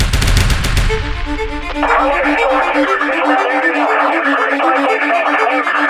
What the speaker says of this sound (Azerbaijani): O silahını doğrultdu və atəş açdı